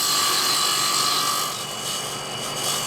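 A parting tool scrapes a spinning piece of wood on a lathe, cutting a dowel on its end. It gives a continuous, close, loud hiss that rasps steadily and eases slightly partway through, with no voices.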